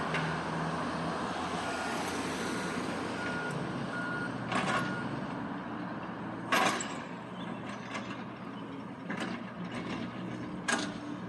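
A truck on a town main street gives steady reversing beeps while it turns around near a traffic light, with engine rumble and clanking mechanical bursts throughout.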